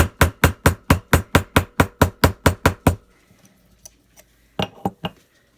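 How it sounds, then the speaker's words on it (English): A ball peen hammer taps along the edges of a metal bracelet blank on a workbench, about a dozen sharp, evenly spaced close strikes, then a pause and a few lighter taps. "my ball peen, and I tap along the sides of my blank"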